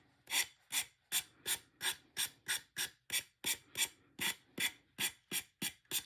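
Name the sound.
finger sander sanding edges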